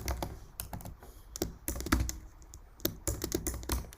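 Fast bursts of typing on a computer keyboard, close and crisp, with irregular clusters of key clicks separated by short pauses and no speech.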